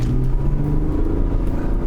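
Genesis GV80 3.0 diesel SUV accelerating in sport mode, heard from inside the cabin as a steady, loud low engine rumble with a smooth whooshing rise.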